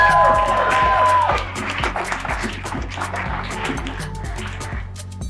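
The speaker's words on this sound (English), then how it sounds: "Start clapping right now for Adam Burke and Deanna Ortiz." Studio audience claps and cheers loudly for two guests on a comedy debate show, a dense burst of applause that fades after a second or so under music and a speaking voice.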